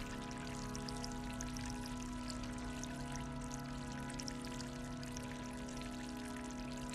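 Water pours steadily into a bucket in the video game Stray, a constant broadband splashing rush that holds even and unbroken throughout, with no voices over it.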